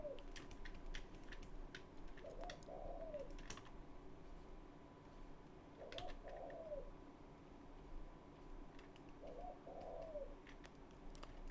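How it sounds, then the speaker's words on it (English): A dove coos in soft, repeated phrases, three evenly spaced calls against a faint background hiss, with scattered light clicks like keyboard typing. "Listen to the bird, listen to the bird sing."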